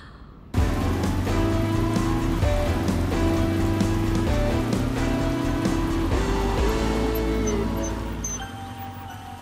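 Rain pours down steadily after a sudden start, a loud continuous patter on surfaces with tonal music playing beneath, fading slightly toward the end.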